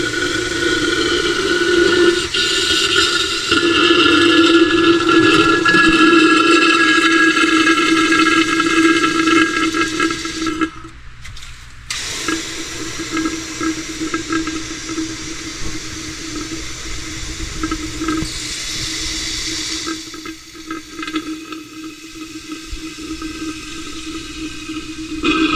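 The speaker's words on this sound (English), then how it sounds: "now we're going to flush the low side. And this is going to flush through the condenser out front." AC flush chemical rushes under pressure through the low side and condenser of a Chevy K10 truck, a loud continuous hiss and gurgle with brief dips as the flow sputters and pauses.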